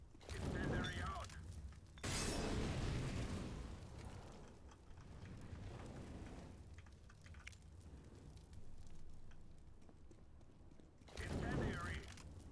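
A CS:GO incendiary grenade is thrown and bursts, giving loud crackling whooshes at the start and end, with quieter mechanical rustle and a lingering burning hiss in between.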